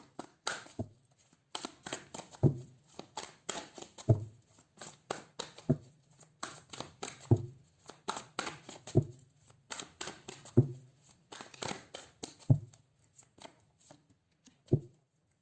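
Tarot cards being shuffled in repeated bursts of quick riffling and soft slaps, close and fairly quiet, with short pauses between each shuffle.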